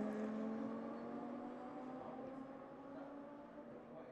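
An Audi R8 LMS race car drives with a steady engine drone heard onboard, tonal pitch sliding slowly, fairly quiet and continuous.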